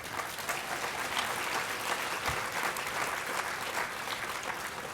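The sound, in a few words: audience applause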